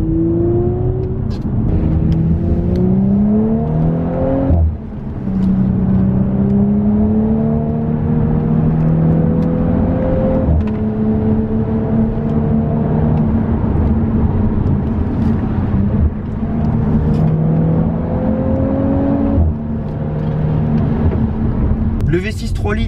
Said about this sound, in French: Le V6 3 litres de 354 chevaux qui sonne bien et qui est très rond